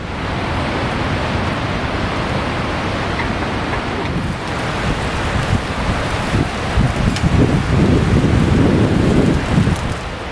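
Steady wind and rain patter on a tarp, a constant hiss with heavier rumbling gusts flapping the fabric toward the end.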